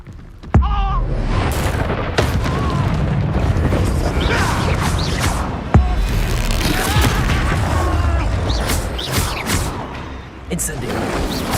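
Spell explosions from the Expulso charm in Hogwarts Legacy boom repeatedly amid dense, continuous combat clatter and crashes, with a loud burst near the start and another mid-clip.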